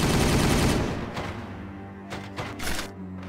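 Gunfire in a Warhammer 40000 game, a dense burst of rapid shots at the start that fades, followed by a few scattered sharper reports and a low mechanical hum.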